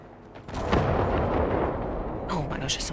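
Enemy gunfire in the Generation Zero video game, a loud burst of heavy, booming shots that rolls on for a couple of seconds amid the game's sound effects.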